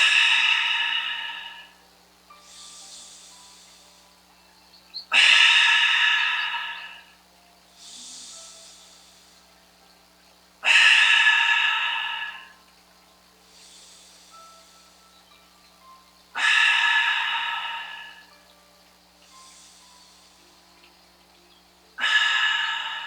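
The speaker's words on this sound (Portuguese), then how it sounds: "Agora puxe forte pelo nariz e solte pela boca 5 vezes." Forceful breathing exercise: five strong inhalations through the nose, each a loud rushing burst, followed by softer exhalations out through the mouth, repeating in a slow steady rhythm, close and alone without talk.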